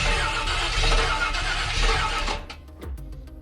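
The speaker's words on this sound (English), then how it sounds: "Freaking starter stuck again." A square-body truck's stuck starter grinds and whines in a loud, continuous cranking for about two seconds, then cuts off, leaving a few faint clicks and knocks.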